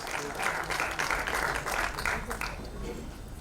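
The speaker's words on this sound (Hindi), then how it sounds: "Abhishek Pathak, ladies and gentlemen, जोरदार तालियां please" A crowd at a film event applauds producer Abhishek Pathak, brisk clapping that is fairly faint and steady, thinning slightly toward the close.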